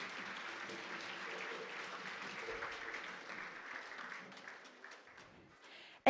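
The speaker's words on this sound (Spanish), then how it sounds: "Fuerte el aplauso para estas empresas e instituciones." A hall audience at a regional round of a national oratory contest in Los Santos province applauds sponsoring companies and institutions, a steady wash of clapping that gradually thins and fades out.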